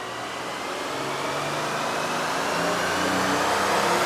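A 2025 Toyota Tundra pickup on a dyno pulls in 4th gear at three-quarter throttle, its engine droning loud and steady as the pitch climbs evenly throughout.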